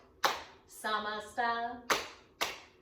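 Hands clap in a chair yoga session, three sharp claps spaced about half a second apart. A voice chants between the claps.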